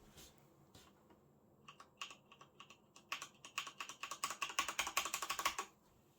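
Corsair K95 RGB Platinum mechanical gaming keyboard switches clicking as keys are typed, starting with sparse taps and building into a fast, dense run of close, crisp clicks with no talking.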